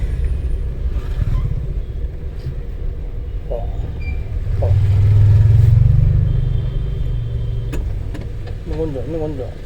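A car engine during a driving lesson on a light accelerator: a low, steady hum and rumble swells a little in the middle. An instructor talks over it throughout.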